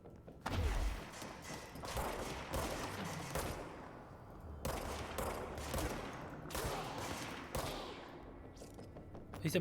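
Gunfire in the video game Control: repeated bursts of loud shots with booming low impacts, coming in several clusters separated by brief lulls, with a voice talking faintly underneath.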